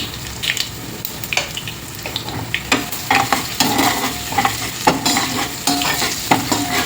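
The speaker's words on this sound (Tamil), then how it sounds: "பூண்டு கொஞ்சம் ப்ரௌன் கலர் ஆகட்டும்" Crushed garlic with asafoetida and turmeric fries in oil toward brown with a busy sizzle, broken by frequent scraping stirs of a spoon against the pan, close and moderately loud.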